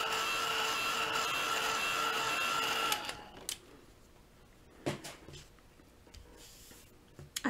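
A heat gun blows steadily while drying acrylic paint on a hand-painted Uncle Sam artwork, a loud even whoosh for about three seconds that then cuts off, leaving quiet room noise with a few faint knocks.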